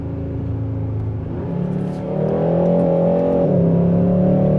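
A 2025 Hyundai Sonata sedan's engine revs up steadily in sport mode, its drone rising in pitch as it accelerates, heard from inside the cabin with no talking.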